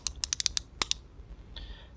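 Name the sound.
clicking of wind-up arm on 1995 Toy Biz Ghost Rider figure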